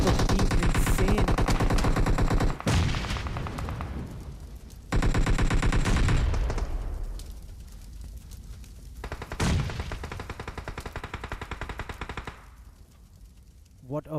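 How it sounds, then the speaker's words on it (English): Suppressed Scar L rifle fire in a PUBG esports match, with dense rapid bursts of automatic gunfire and repeated volleys, loud and close, running alongside a shoutcaster's excited commentary. "he will pick up a knock on 8-Bit Prince with that suppressed Scar L."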